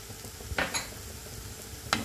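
Spices being stirred into palak paneer masala in a pan: a few soft scraping strokes of a spoon over a low, steady sizzle, close and quiet.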